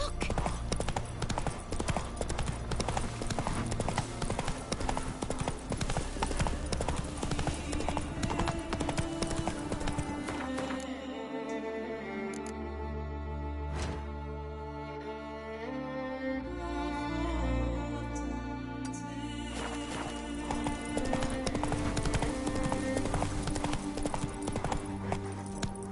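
Roach, a horse in a video game, gallops with fast, steady clip-clop hoofbeats that run throughout, layered under loud in-game music that swells midway.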